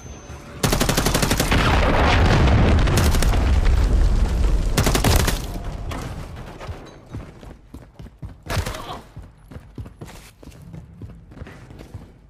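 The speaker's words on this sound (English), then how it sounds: "Hostiles launched a cruise missile." Heavy explosions and gunfire in the Modern Warfare III multiplayer game during a cruise missile strike: a loud sustained barrage of blasts and rapid shots for several seconds, then scattered fainter bursts and a few later impacts.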